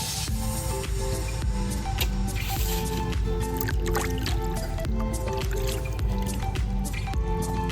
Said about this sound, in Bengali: মাছগুলো আমি আরেকবার লাস্ট পারের মতন ধুয়ে নেব।